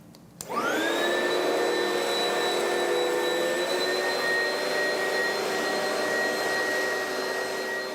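A household vacuum cleaner switches on and runs steadily, a loud, close, sustained whine and roar that holds level for several seconds with no voices.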